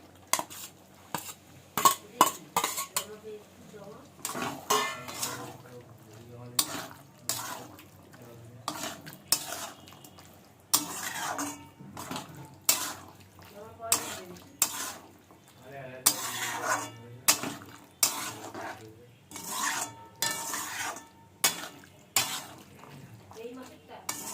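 Peas and potatoes are stirred in a cooking pan, a utensil scraping and clinking against the metal in irregular bursts, with quiet pauses between the strokes and a faint sizzle beneath.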